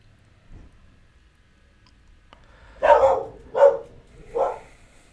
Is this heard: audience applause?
no